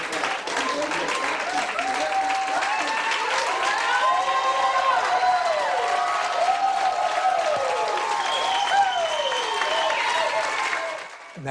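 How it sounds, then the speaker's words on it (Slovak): Audience applause at a prayer meeting, a steady dense clapping that fills the room for about ten seconds before fading at the end, with a voice speaking over it. "Počujete potlesk?"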